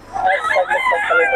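An eight-month-old young rooster (stag) at Bocaue crows once, a loud, close, strained call lasting just over a second.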